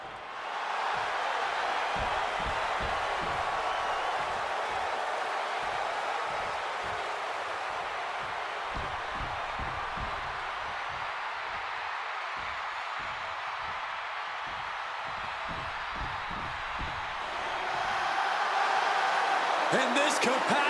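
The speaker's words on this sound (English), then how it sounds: "And this capacity crowd just exploded" Capacity arena crowd roaring in WWE 2K26 ahead of a Seth Rollins versus CM Punk wrestling match, a steady loud wash of cheering with thumping low impacts scattered through it and a swell near the end.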